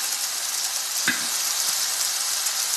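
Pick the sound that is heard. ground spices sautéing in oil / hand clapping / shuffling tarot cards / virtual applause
ground spices sautéing in oil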